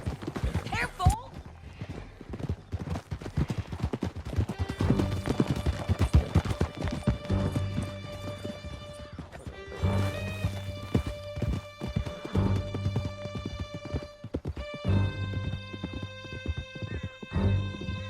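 Horses galloping hard through a canyon in Red Dead Redemption 2, steady rapid hoofbeats close by with occasional whinnies, while voices shout and talk over the ride.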